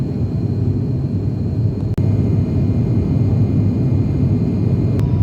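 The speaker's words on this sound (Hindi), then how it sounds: "विमान बादलों के ऊपर उड़ रहा है इस समय" An airliner cruising above the clouds on a flight bound for Dehradun, heard from inside the cabin as a loud, steady roaring hum of engines and airflow, unbroken apart from a brief click.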